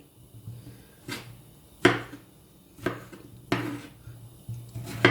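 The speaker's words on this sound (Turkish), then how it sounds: "Kabağı, patlıcanı, patatesi bu şekilde doğrayacağım." Sharp knife chops through zucchini, eggplant and potatoes on a cutting board up close, about one a second in an uneven rhythm, with no talking.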